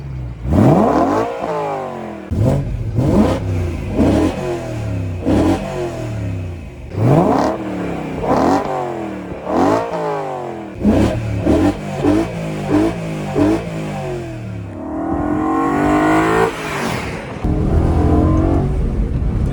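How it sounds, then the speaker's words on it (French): A BMW M3 E92 engine with manual gearbox is revved repeatedly, each blip rising sharply then falling away, close and loud, ending in a sustained high rev. "on va se refaire un petit start-up revs avant de prendre le volant"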